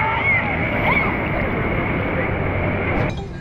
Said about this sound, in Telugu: అయి పడవ చూడు, రివర్స్ పోతుంది.